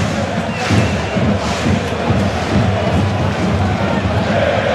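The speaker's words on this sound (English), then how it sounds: "Bayern's travelling fans still in fine voice." Bayern Munich's travelling supporters chant in a stadium during a football match at the Britta Arena, a loud, steady wall of massed crowd voices with no break.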